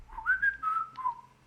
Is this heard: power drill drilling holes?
no